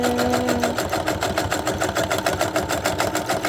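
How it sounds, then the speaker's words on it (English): A sewing machine fitted with a thick leather needle stitches wig material, its needle hammering in a fast, regular rhythm under a steady motor hum, close and fairly loud, without speech. "Let the teeth of the sewing machine do its thing."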